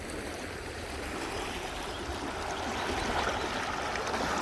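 The Yakima River rushes in a steady, close, broadband wash of flowing water with no pauses, loud and unbroken throughout.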